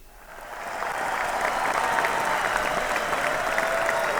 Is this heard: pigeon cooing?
no